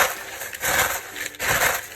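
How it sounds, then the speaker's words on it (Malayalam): Faint, brittle crunching and snapping as crisp fried sev is broken into small pieces by hand, in a few quick bursts. "ഈ സേവിന് നമുക്കൊന്ന് പൊട്ടിച്ചെടുക്കാം"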